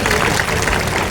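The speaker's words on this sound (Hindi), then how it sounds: "एक बार जोरदार तालियां बजाइए" An audience at a Gudi Padwa procession event in Manchar claps loudly, giving a dense, steady wash of applause over the whole moment with no talking.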